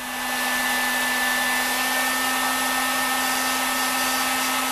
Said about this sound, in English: So, take your heat gun.